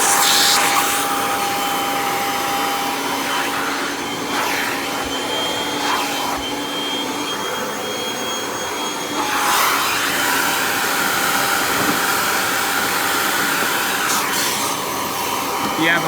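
A Kirby Sentria G10D upright vacuum cleaner runs loud and close with a steady whine and roar, its pitch shifting slightly as it moves, with brief surges in airflow.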